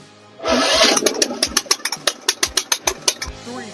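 A GENERGY VELETA 2.5/2.8 kW petrol generator fires up from its electric start button, a loud close starter whir followed by a fast run of rhythmic chugging pulses as the engine catches.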